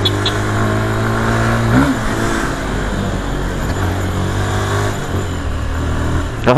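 A motorcycle rides along the road with a steady, loud engine drone close by, its pitch shifting through gear changes, with no talking heard.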